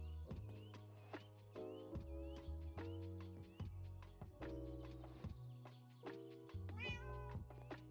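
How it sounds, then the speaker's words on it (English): A tuxedo cat in the game Minecraft meows repeatedly, short close cries repeating one after another in a steady run, with no voices. "He's a little tuxedo cat, but he's cute."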